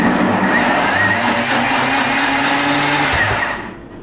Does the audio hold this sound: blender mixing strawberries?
yes